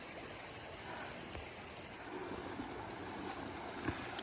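A stream runs at a rocky water crossing on the Appalachian Trail, a faint, steady rushing wash with a few soft splashes and gusts of wind, no voices.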